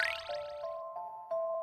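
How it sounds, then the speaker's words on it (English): A bell rung by a slingshot shot in the Professor Layton and the Miracle Mask puzzle game on the 3DS gives a steady sustained tone after a bright swept onset, with small repeated ticks, clean and without talk. "The goal is to make one of the shots ring the bell."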